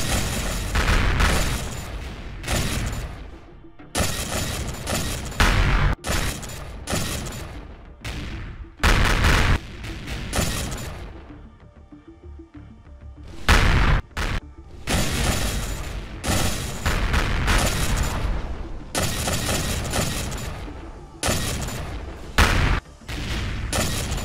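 Cruise missiles in the video game Empyrion Galactic Survival detonate in loud rapid bursts, dense overlapping booms with short gaps between salvos and a quieter lull midway before the barrage resumes.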